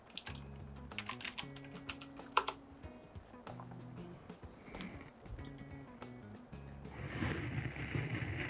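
Quick bursts of keystrokes clatter on a computer keyboard, irregular clicks in short runs separated by brief pauses, with some muffled handling noise near the end.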